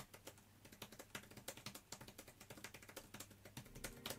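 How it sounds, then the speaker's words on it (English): Typing on the Amazon Fire Max 11 keyboard cover: a quick, steady run of soft, dampened key clacks close by, fairly quiet, with no voices. "You do start to get a little bit of noise when you clack on it."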